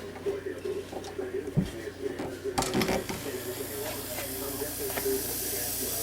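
An airbrush compressor runs at full power with a steady hiss and low motor hum throughout, joined by a faint leaking check valve, with a brief louder clatter midway and talk at moments.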